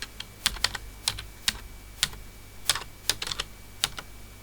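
Computer keyboard typing as a file name is entered, a run of quick light key clicks in small bursts with short pauses, fairly close and alone.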